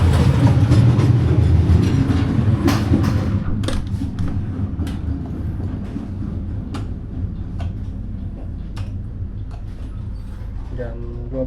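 KA Taksaka, an Argo-class Indonesian passenger train, departing and running, heard from inside as a steady low rumble with scattered clicks and clacks of the wheels, loud and continuous, while a voice talks over it.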